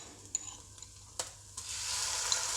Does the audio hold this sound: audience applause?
no